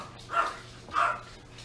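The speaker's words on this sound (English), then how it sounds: "Their dogs are just they're just barking in the background" Dogs bark twice in the background, two separate moderately loud barks spaced about half a second apart over a low steady hum.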